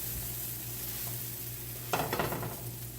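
A pancake cooks in a pan with a steady soft sizzle and low hum. Near the two-second mark there is a brief scrape and clatter, likely from a flip or a spatula.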